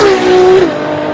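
A 2015 Ferrari LaFerrari hybrid supercar with the F12 Berlinetta V12 roars loud and close, holding a steady high engine note before the pitch drops away as it eases off, with no talk.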